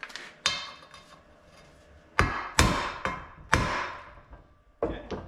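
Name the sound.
tapping a cap back into place using a socket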